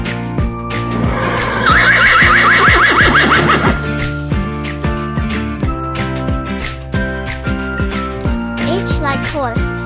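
A horse gives a loud, close whinny that rises and trembles, set among steady clip-clop hoof beats and light scraping, with a second shorter neigh near the end.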